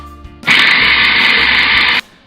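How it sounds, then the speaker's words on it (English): A blender whirs loudly and steadily through chilli jam ingredients for about a second and a half, starting and stopping abruptly, with no talking. "And now we blend it."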